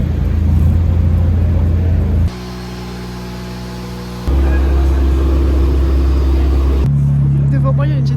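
Cars at a car meet at Motortech in Belgium, with a Nissan GT-R arriving: engines rumble and idle loudly, the tone shifting between steady levels as a car moves up, with voices nearby.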